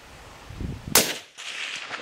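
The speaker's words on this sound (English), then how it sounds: "Shoot him again, just one more time." A single sharp gunshot from a .22 rifle cracks out close by against quiet outdoor background, followed by a brief fading decay and a soft lingering hiss.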